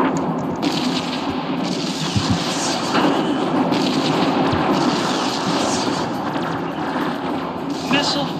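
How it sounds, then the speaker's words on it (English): Missiles launching in the space strategy game Infinite Lagrange, a dense continuous roar of rumbling blasts and booming fire lasting throughout, with brief sharper thumps layered over a steady battle din and a synthetic voice announcing events. "Missile fired."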